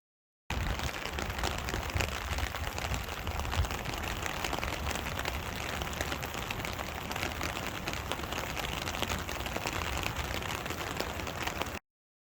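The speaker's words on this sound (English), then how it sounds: "Still pissing down rain." Heavy, wind-driven rain falling sideways at a clifftop lookout above the Twelve Apostles on Victoria's coast, a dense steady roar of drops on surfaces with wind buffeting throughout, loud and continuous with no talking.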